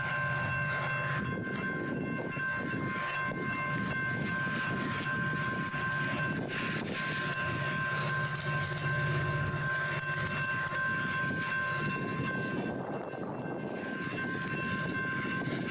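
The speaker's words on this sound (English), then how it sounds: "CNS locomotives moving freight" Freight locomotives pull hopper cars past in a long, fairly distant rumble of wheels and rolling stock. Steady tonal hums ride over it and the noise swells slightly toward the end.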